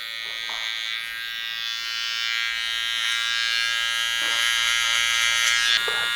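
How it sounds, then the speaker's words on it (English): Electric hair clippers taper curly hair, blending the sides into a beard, with a steady close motor buzz that holds throughout and shifts slightly in pitch as the blade moves through the hair. "I'm just blending, or tapering, as we say, the hair from the sides into the beard"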